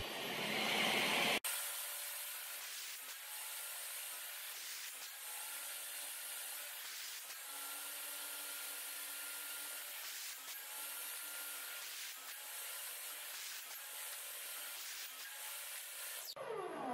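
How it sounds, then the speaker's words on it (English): Bamboo pieces being cut to length on a table saw sled with a stop block, a steady loud saw whine running continuously with brief dips between cuts, no talking. "Then cutting those pieces to length using a stop block on my sled."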